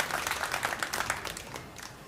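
A crowd applauds a great shot in a men's 10-ball pool semi-final at the WPA Predator World Championship, giving a short burst of clapping heard from a moderate distance.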